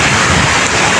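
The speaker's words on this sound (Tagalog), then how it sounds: "Sobrang lakas ng ulan." Heavy rain pouring during typhoon Enteng in Valenzuela amid flooding, a dense, steady roar of falling water filling the short stretch without pause.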